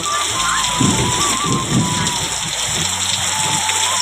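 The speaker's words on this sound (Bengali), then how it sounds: "দেখো খুব জোরে বৃষ্টি হচ্ছে" Steady heavy rainfall hisses throughout, with low rumbling of thunder and faint voices underneath, rain soaking stacked wood.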